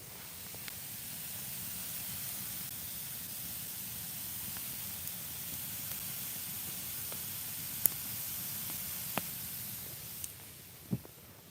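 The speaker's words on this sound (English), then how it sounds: "They're sizzling out a bunch of moisture or sap or something." Moist wood sizzles with a faint, steady hiss in a smokeless firepit during a snowstorm, with a few sharp crackles and pops near the end. No one speaks.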